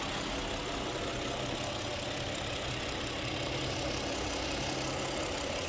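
A 2018 Kia K7 with a 3-litre engine running on gas idles close by, giving a steady, even mechanical hum and rattle with no talk over it.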